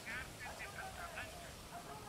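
A helicopter in the Ghost Recon Wildlands video game, a steady engine and rotor drone under someone talking over it.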